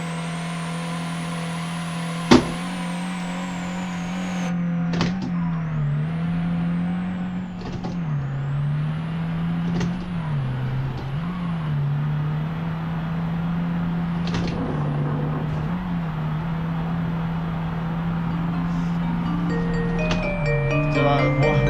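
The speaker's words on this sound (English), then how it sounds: "let's just top speed run in the Ford Transit" Ford Transit delivery van on a top speed run, its engine droning steadily at high revs with slight pitch wavers and gear-like dips. Tyre and road noise sit underneath, and a sharp knock comes early on.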